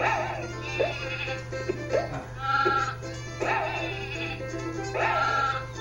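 Sheep in the Croc PlayStation game's arrow-button mini game give repeated nasal electronic bleats in an uneven rhythm over a steady low game hum, with no talking.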